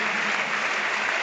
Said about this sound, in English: gets a really good round of applause